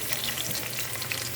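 Onion and garlic sautéing in a pan with ginger, a brief, steady hissing sizzle heard close and alone, fairly soft, with light stirring texture and no voices.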